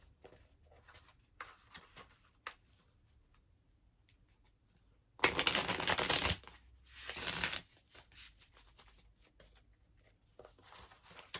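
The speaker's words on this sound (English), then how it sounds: "Let's shuffle for Pisces." Tarot cards being shuffled in two quick bursts of riffling, fairly close, with soft taps and handling noises in between and no voices.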